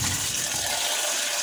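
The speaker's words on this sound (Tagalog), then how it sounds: "Lagyan natin ng sabaw." Broth pours into a pot of Ilocano pinakbet with eggplant and bagoong, a steady close splashing gush of liquid lasting a moment.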